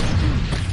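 A grenade explosion in a video game, a loud, low rumbling boom that fills the whole moment and stays heavy without a sharp attack.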